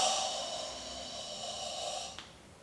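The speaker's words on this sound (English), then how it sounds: "and breathe" Steady, controlled breath during a Sanchin karate kata, a long continuous airy exhale lasting about two seconds before cutting off with a faint click, then near silence.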